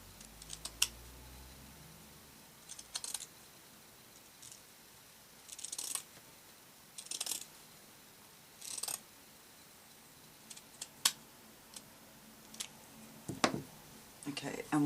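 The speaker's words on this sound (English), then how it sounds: "I'm going to cut this doily in half." Scissors cut a lace doily in half, giving a series of short, crisp snips at irregular intervals with quiet pauses between them, recorded close by in a calm room.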